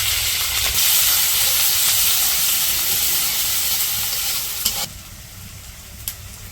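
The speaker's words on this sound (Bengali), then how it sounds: "কড়াইয়ে একটু তেল দিয়ে দিলাম পেঁয়াজ আর কাঁচামরিচ কুচি দিয়ে দিলাম" Chopped onion and green chili frying in oil in a wok, a loud, bright, continuous sizzle with stirring that drops noticeably quieter near the end, broken by a couple of small clicks.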